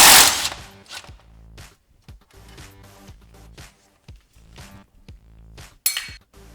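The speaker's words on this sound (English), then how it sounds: "I'm going to use my impact gun. Makes it a lot easier." An impact gun rattles in several rapid bursts as it removes the brake line bolt from the strut of a Subaru WRX STI, close and loud, with short pauses between the hammering runs.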